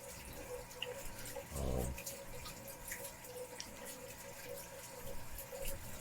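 Water drains from a 75-gallon aquarium through a drain hose into a sink. It gives a faint, continuous trickling and dripping, with one louder gurgling splash partway through and scattered small drips, and nobody speaks.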